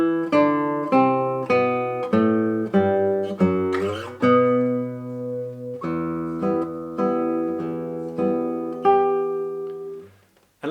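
Classical guitar slowly plays the five-bar intro of Daniel Fortea's Mi Favorita, with plucked notes and chords ringing out one after another, close and clear, alone with no voices.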